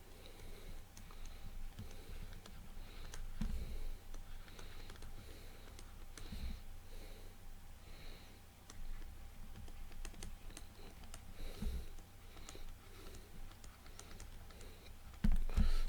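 Lecture notes typed on a computer keyboard, a long run of close, fairly quiet key clicks in bursts and pauses over steady background hum, with no talking.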